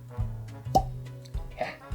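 A bourbon bottle, E.H. Taylor Barrel Proof Batch 14 at 127.2 proof, gives a single short, hollow cork pop at close range in a quiet room, followed by faint handling sounds.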